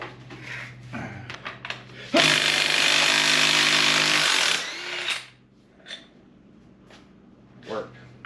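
A power tool, likely an impact wrench, works a crankshaft bolt loose on a GM 5.3 Vortec V8 during a home engine teardown. It roars loudly and steadily for about two and a half seconds, then falls to quiet shop noise.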